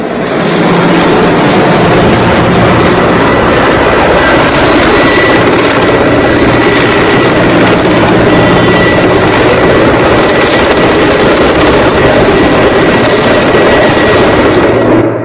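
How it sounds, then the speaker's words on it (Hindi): A surveillance helicopter circles over Ayodhya during heavy security for a temple ceremony, producing a loud, constant rotor and engine roar that dominates throughout with no break. "बाकायदा हेलीकॉप्टर से निगरानी रखी जा रही है अयोध्या की।"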